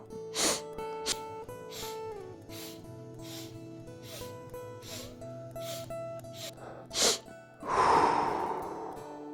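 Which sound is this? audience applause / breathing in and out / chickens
breathing in and out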